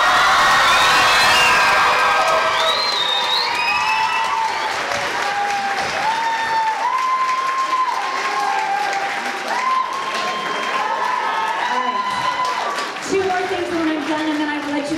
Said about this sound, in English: So please, on the count of three, everyone, big round of applause,